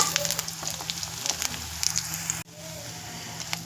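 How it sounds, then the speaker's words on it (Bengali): Beetroot pakoras deep-frying in hot oil, a steady close sizzle with scattered crackles and pops, briefly dipping before resuming. "আমি এগুলোকে একটু লাল লাল করে ভেজে নেব।"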